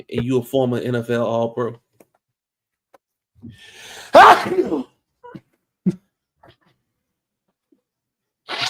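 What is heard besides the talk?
sneeze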